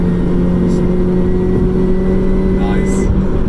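Supercharged Mazda MX-5 accelerating hard during a performance pull, a loud, steady engine drone with a rising whine filling the cabin, heard from inside the car.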